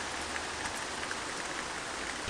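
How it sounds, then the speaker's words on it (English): Steady rain falls in the OMSI 2 bus simulator beside an Irisbus GX127 midibus, a constant even hiss with no voices, ending in a brief low thump. "it's rather wet and rainy and rather miserable looking"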